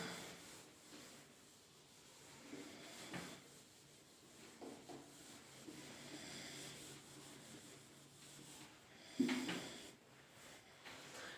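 A chalkboard being rubbed clean during a classroom biology lesson, heard as faint, steady scrubbing strokes that rise and fall, with no voices, ending in a slightly sharper scrape.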